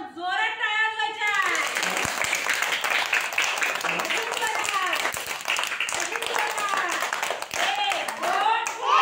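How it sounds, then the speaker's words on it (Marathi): Children clapping for two young contestants after a kids' shapes game, a loud busy patter of small hands, heard under excited high-pitched children's voices and shouting throughout. "दोघांसाठी पण जोरात टाळ्या वाजवायच्या"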